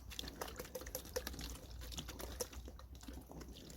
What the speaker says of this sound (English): You can go ahead and grab your water or your hose. Give this a little rinse down.